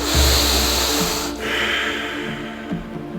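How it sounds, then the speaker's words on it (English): Slow, deep breathing during a yoga session, a steady, airy inhale and exhale close to the microphone with no talking. "Take deep breaths twice."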